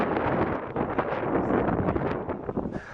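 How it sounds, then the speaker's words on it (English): Strong, cold gusts sweep across a white-sand beach at Pensacola, Florida, as the remnants of Hurricane Irma blow over, a loud, continuous roar buffeting the microphone with no break. "It is extremely windy."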